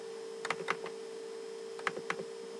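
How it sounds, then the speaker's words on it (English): Brief bursts of computer keyboard typing come in two short clusters of a few keystrokes each, fairly faint against a steady background hum. "we're going to type in equation"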